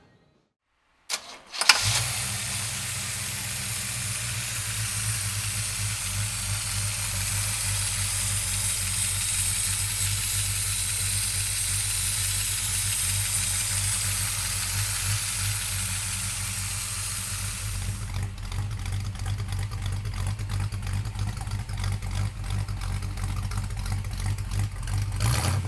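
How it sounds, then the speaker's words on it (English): A 1966 Pontiac GTO convertible with a 4-speed cranks and catches, then settles into a loud, steady, rumbling idle that runs without a break for over twenty seconds, with no voices heard. "So come on up and we'll fire it up for you right now."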